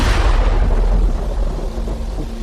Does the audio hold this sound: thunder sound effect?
yes